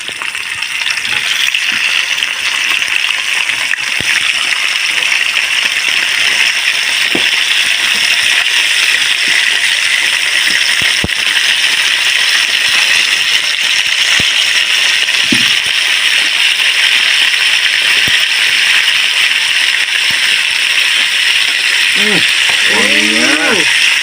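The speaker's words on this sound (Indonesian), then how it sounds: "Oke, kita goreng." Salted fish fries in hot oil, a loud, constant sizzle and crackle that runs throughout, with a brief clink of utensils near the end.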